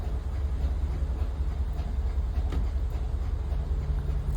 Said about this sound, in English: It sounds like the pump's starting to lighten up a little bit.